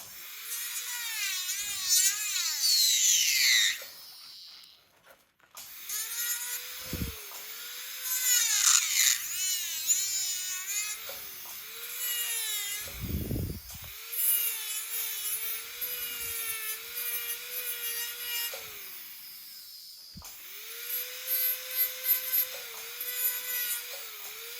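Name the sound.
trimming white resin on temporary teeth with dental drill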